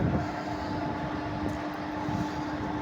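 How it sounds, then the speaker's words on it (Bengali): A train sits idling with a steady low mechanical hum and faint tonal drone, heard alone and fairly distant. "দেখো একটা ট্রেন দাঁড়িয়ে রয়েছে"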